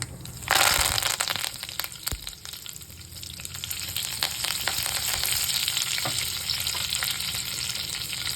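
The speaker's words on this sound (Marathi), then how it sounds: "चांगलं परतून घ्यायचं मस्त थोडीशी लालसर होऊ द्यायची डाळ कढीपत्ता घालायचा" Dal and curry leaves frying in hot oil in a pan for upma, a loud continuous crackling sizzle with scraping stirs, close up and without talk.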